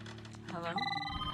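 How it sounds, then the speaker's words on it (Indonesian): Apartment telephones ring with a bright electronic tone under a voice, the ringing growing clearer near the end. "Tiba-tiba semua telepon di apartemen Angela bunyi pada malam itu."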